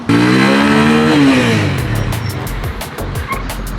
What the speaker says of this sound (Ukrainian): Зараз будуть передні гальма.